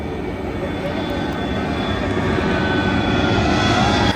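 An airplane near Cochin airport roars steadily as a loud, broad engine rumble that swells slightly toward the end, heard outdoors without any talking.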